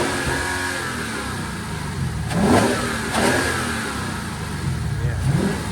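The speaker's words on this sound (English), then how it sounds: "Go ahead and rev it up. You can hear it too." Lexus RCF fitted with an RR Racing cold air intake, filter and heat shield revs repeatedly over a steady idle, two strong rising-and-falling blips close by, with people talking and reacting in the background.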